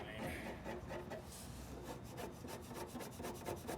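Steady scratchy rubbing of a pencil marking cut lines on plastic for a 2006 Jeep Grand Cherokee snorkel, repeated short strokes, close and continuous, with no speech.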